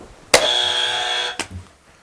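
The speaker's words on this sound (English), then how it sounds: "This is a buzzer" A quiz buzzer gives one loud, steady electronic blare lasting about a second, sharp at the start and cut off abruptly, alone with no talk.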